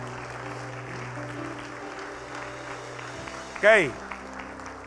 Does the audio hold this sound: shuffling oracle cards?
no